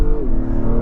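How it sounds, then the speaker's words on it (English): An Acura MDX Type S engine in sport mode with a 10-speed automatic pulls hard under acceleration, giving a loud, steady close-up drone whose pitch drops briefly as a quick upshift lands. "I have to say, that is a nice sounding engine."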